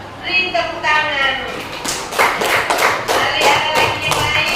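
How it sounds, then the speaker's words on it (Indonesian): A classroom of students claps together in scattered then fuller bursts of applause, close and lively, with voices talking over the clapping. "Beri tepuk tangan."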